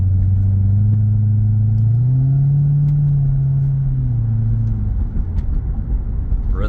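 A 2012 Chevrolet Corvette Grand Sport 3LT with the Z16 Heritage Package on the road, its engine a loud, deep, steady rumble that swells briefly as it pulls, heard from inside the car.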